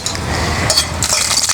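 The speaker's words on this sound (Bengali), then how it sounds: "এবার এই শুকনো লঙ্কাটি তেলে ভেজে নেব।" Dried red chili frying in hot oil in a heated wok, a steady close crackling sizzle with faint metallic clinks of stirring, no voices.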